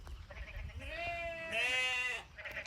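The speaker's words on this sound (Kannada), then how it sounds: "ಕುರಿ ಹಟ್ಟಿ ಇದೆ, ಮೇಕೆ ಕುರಿ ಎಲ್ಲ ಇದೆ." Sheep and goats bleat inside a livestock pen, wavering calls overlapping one another at close range, with the loudest cries rising in the middle against a low background rumble.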